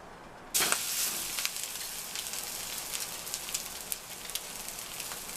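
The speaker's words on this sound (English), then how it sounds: "So we want to get these salmon patties on there." Salmon patties hit a smoking pan of clarified butter and erupt into a loud, sudden sizzle that settles into steady crackling frying, close up, with no talk.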